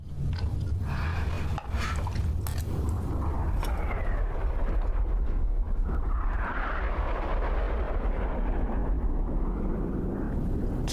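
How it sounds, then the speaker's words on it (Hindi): A loud, continuous roar of a fighter jet engine sweeping overhead, rising and shifting in pitch as it passes, with dense rumbling noise throughout. "ये एक लड़ाकू विमान की आवाज है ना?"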